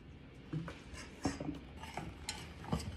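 A spoon stirs milk and vanilla extract into a chocolate eclair cake mixture in a bowl, soft scraping with a few light clinks against the dish, close and quiet.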